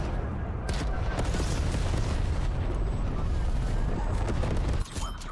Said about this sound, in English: Sitrep, napalm strike inbound. Cruise missile inbound.